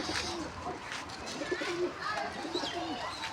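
Pet pigeons cooing softly at a moderate distance, with a few low burbling coos over steady background hiss, occasional chirps and faint voices.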